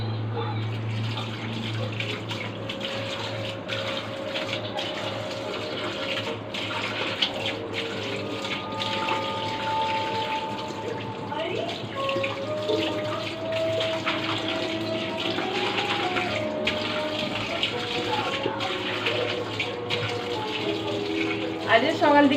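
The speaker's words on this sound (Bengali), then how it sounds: "আমি মাটনটা ধুয়ে দিই।" Tap water runs steadily while mutton is rinsed in a home kitchen, a continuous moderate gush with faint clatter on top, going on for the whole stretch.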